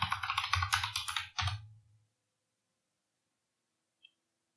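Quick run of computer keyboard typing, a burst of close, crisp keystrokes ending in a firmer key press like Enter, then near silence with one faint tick near the end.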